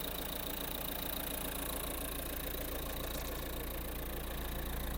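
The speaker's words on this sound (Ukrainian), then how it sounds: "Гляньте, як двигун працює, двигун взагалі не митий." A 2019 Renault Kadjar Intens engine idles steadily with a dense, even hum and faint mechanical chatter, close and continuous with no voices.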